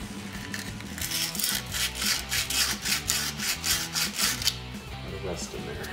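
Rust being scrubbed off a Jeep Wrangler TJ suspension part near the ball joint seat, a close, steady run of quick back-and-forth scraping strokes about a dozen in a row, over a low hum.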